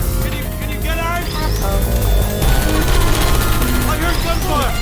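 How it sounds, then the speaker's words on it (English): Gunfire bursts in the Portal 2 video game, thick and continuous against a dense game soundscape with rising electronic tones, moderately loud throughout. "I heard gunfire"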